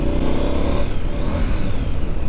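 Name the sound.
2021 Triumph Street Scrambler motorcycle engine pulling away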